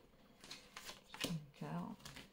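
Oracle cards are shuffled in short, papery riffles and flicks at close range, with a voice speaking softly around them.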